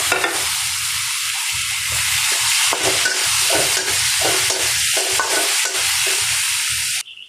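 Tomatoes and green chilies sizzle together with fried onions in a pan, a loud continuous frying hiss broken by rhythmic stirring scrapes, ending abruptly near the close.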